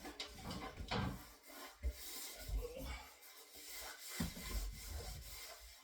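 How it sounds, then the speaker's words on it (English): Steady rubbing and rasping of a cloth wiped back and forth across a hard wooden surface, close by, with a few knocks and shuffles. "Little wipe down."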